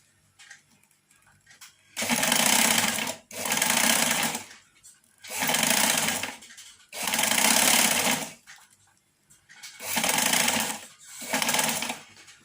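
A sewing machine stitches a narrow hem along fabric for curtains, running in six loud, close bursts of about a second each, separated by short pauses, with no talking.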